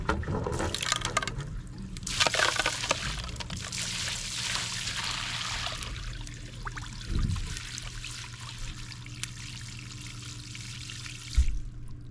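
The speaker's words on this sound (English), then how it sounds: "Water's coming out." Water from a well gushing and splashing steadily from a pipe after a frozen waterline, loud and hissing at first, then settling into a softer continuous flow with a few knocks.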